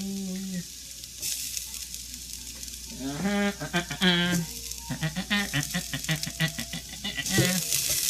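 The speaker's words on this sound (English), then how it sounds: "So next we're going to stir in the ginger" Grated ginger stirs into a hot pan and sizzles steadily with a soft frying hiss, while a person talks over it nearby.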